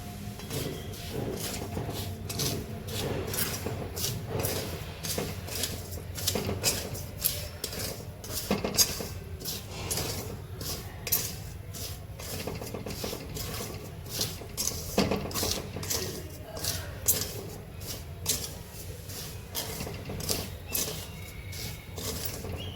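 Steady scraping and clinking of a utensil against a pan as fine moraiyo millet is roasted in ghee, continuous and close, with a soft sizzling patter underneath.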